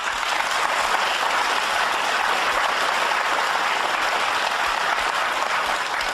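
Studio audience at a televised political debate program breaking into sustained, loud, even applause that fills the whole stretch without pause.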